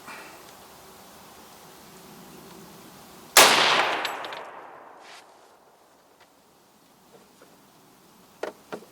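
A single loud report from a Remington Model 8 semi-automatic rifle with a steel butt plate, fired outdoors at a range, followed by a long fading echo and a couple of faint clicks near the end.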